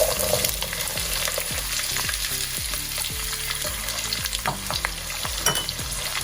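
Chopped garlic and onion sizzle in hot oil in a pan, a constant close crackle broken by a series of regular scraping strokes as the mixture is stirred.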